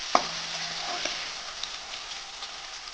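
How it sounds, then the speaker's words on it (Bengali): Paneer sizzles steadily in hot oil in a wok, a close, even frying hiss, opening with a sharp clink of a utensil and a few faint taps after; no one speaks. "পনিরটা প্রথমে ভেজে নেবো"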